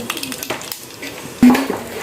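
Spices tempered in hot oil in a home kitchen, brief clinks of a pot and spoon and a soft sizzle, with a sharp louder burst near the end, close by with faint voices.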